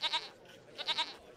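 Sheep bleat in a video game. Two quick bursts of wavering, nasal bleats are separated by a short pause, faint and close, with no voices.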